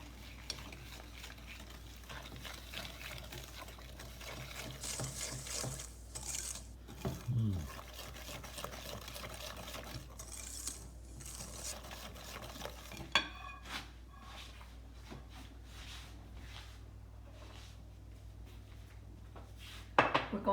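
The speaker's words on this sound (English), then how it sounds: "To whisk this together." A whisk scraping and clinking in a bowl of lemon juice and lemon sugar, soft irregular rubbing strokes, quiet and close, with a voice talking faintly and a sharper clatter near the end.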